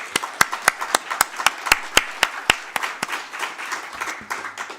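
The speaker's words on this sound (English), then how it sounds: "How about a nice round of applause, everybody?" A small book launch audience gives a short round of applause, individual claps ringing out distinctly at first and then thinning into a scattered, softer patter before fading.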